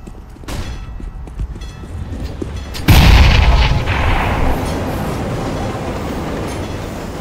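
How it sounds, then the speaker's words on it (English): A flashbang grenade goes off in CS:GO competitive play, a loud sudden bang with a broad ringing wash that follows, after a stretch of background game noise. "Flashbang!"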